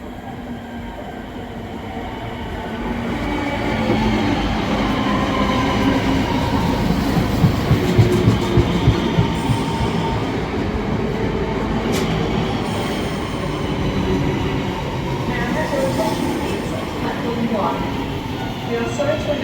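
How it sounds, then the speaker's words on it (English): An ex-West Midlands Trains Class 323 electric train running on the Northern network toward Blackpool North, a steady loud rumble of wheels and motors heard from on board, with faint rattles and brief squeals throughout. "Our next train is an ex-West Midlands Trains Class 323, which will take us to our furthest point on our journey today"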